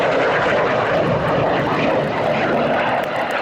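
Red Arrows BAE Systems Hawk T1 jets of the synchro pair at an air display, producing a loud, steady roaring engine rush that fills the scene without letup and with no talk.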